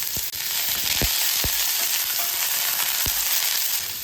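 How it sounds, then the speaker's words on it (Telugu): Thinly sliced onions sizzling in hot oil with whole garam masala for a vegetable pulav, a steady close frying hiss broken by a few sharp pops and stirring clicks, with no voices. "హోల్ గరం మసాలా వేగిన తర్వాత సన్నగా కట్ చేసుకున్న ఉల్లిపాయలు వేయాలి"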